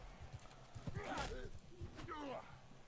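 Rhythmic clip-clop of horse hooves in the Mount & Blade: Bannerlord video game, fairly close and mixed with a whinny-like cry and a voice in the background.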